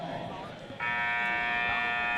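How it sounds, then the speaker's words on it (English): Scorer's table buzzer sounds loudly at a high school boys' basketball game, a sustained harsh electronic tone rising over gym crowd noise. "Again, another buzzer."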